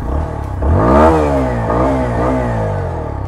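A TVS Apache 160 4V motorcycle engine, 2022 special edition, revs up sharply from idle, then holds and wavers through a couple of throttle blips, loud and close.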